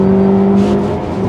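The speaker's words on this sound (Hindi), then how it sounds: "अभी हमने फुल एक्सेलरेट करा है" A 2022 Maruti Suzuki Baleno facelift accelerates at full throttle in third gear on an empty road, its dual-jet engine giving a steady, loud interior drone.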